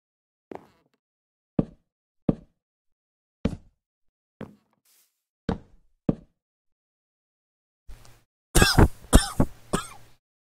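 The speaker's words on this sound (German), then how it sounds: "Meine Güte, ist der Husten nervig." Several separate coughs spaced a second or so apart, close and dry, then a louder burst of harsher coughing and throat clearing near the end.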